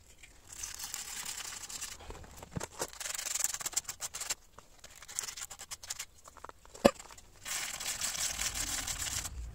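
Sandpaper rubbed by hand over an aluminium alloy car wheel gives soft, scratchy strokes in uneven bursts, fairly quiet, with short pauses and a few small knocks.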